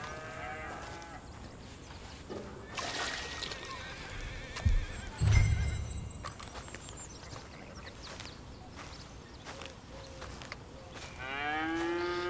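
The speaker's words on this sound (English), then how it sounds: "Look, multiple cows." Several cows mooing in Red Dead Redemption 2, low calls rising and falling at intervals over a quiet farm ambience, with a horse whinny and hoof clops mixed in, moderately near.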